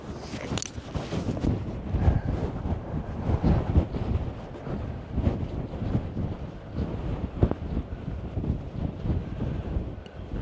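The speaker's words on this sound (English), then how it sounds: "It's very windy." Strong wind buffets the microphone throughout on a remote Scottish beach, a rumbling, gusty roar with no voices.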